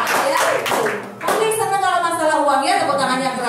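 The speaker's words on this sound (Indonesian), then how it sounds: "tepuk tangannya keras sekali berarti." Loud audience applause in an Indonesian talk-show setting, a dense continuous patter of clapping that swells briefly, then carries on steadily with voices mixed in.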